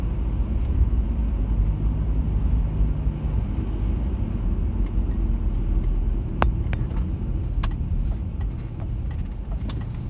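A car drives along a road at Oshkosh airport in December, with a steady low engine and road rumble from inside the vehicle and a few faint clicks and taps in the second half.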